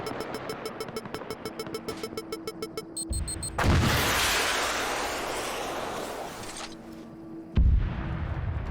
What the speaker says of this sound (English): There was a rocket hit there.